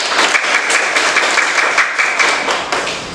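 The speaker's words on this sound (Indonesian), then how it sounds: "Ya, tepuk tangan untuk semuanya." A primary school class of sixth-graders claps hands together in a dense, steady burst of applause that stays close and even throughout, with a brief faint voice mixed in.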